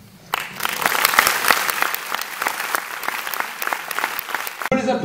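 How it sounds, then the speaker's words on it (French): Loud, sustained audience applause at a French film premiere, dense clapping that starts abruptly and holds steady before cutting off at the end. "On peut les applaudir bien fort"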